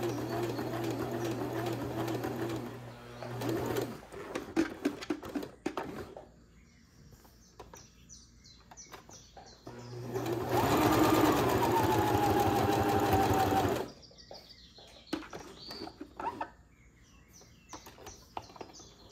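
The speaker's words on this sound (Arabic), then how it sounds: "أنزل الدواسة بحيث طرف الدواسة مع طرف القماش، وأرجع أخيط" Sewing machine stitching a folded fabric coaster, a steady loud motor whir running for a few seconds at the start and again in a longer burst later, with quiet handling noises and pauses between.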